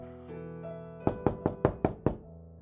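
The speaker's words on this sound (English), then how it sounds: "A knock on the door." Six sharp, evenly spaced knocks on a door ring out close and clear over a low sustained musical drone, then stop as the tone lingers.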